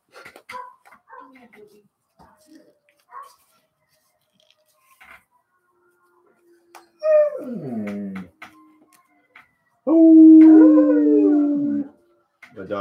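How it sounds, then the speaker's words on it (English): Dog howling in two drawn-out, wavering bursts late on, the second loud and sustained, following scattered nearby speech and small handling noises in a quiet room. "My dog's about to get in on it."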